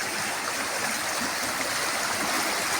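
The Dades river in Morocco's Dades valley, flowing beside a muddy footpath toward a canyon: a continuous, even rush and burble of water, close by and unbroken, with no voices.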